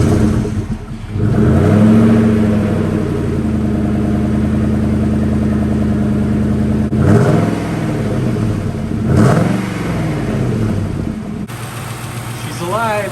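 A 1997 Ford Mustang Cobra engine turns over and catches, then revs up and down in several rising and falling bursts, loud and close.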